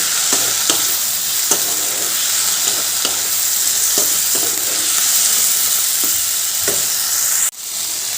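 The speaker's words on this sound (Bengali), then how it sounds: "এবার এর মধ্যে যে মশলার পেস্ট বানিয়ে রেখেছিলাম সেটা দিয়ে দিলাম দিয়ে একটু কষিয়ে নেব" Spice paste frying and being stirred in a pan for a tangra fish curry, a steady loud sizzle with regular scraping strokes of the spatula, alone with no talk.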